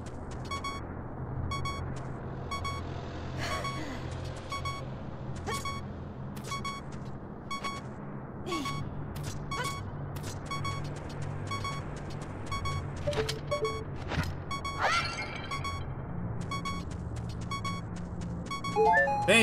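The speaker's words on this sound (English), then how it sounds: "Now we can finally shut up the beeping. That beeping is so annoying!" A warning beep in the video game The Legend of Zelda: Ocarina of Time repeats at a steady pace, fairly loud, over continuous game ambience and other effects, with no talking.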